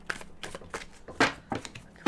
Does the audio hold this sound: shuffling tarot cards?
yes